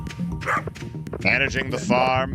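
Game dog named Nitro barking in Stardew Valley on a farm, short yips and bow-wows mixed under continuous close talking from people chatting over it.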